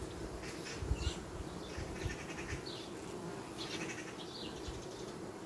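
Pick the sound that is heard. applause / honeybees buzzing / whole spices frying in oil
honeybees buzzing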